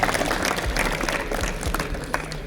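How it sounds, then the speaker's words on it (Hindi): A school audience of children applauds together at a road safety talk, a dense, steady patter of clapping close by that carries through the whole stretch without a break. "वेरी गुड, आप ताली बजाएंगे सभी?"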